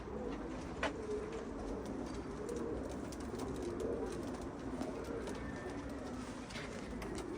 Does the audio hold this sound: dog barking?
no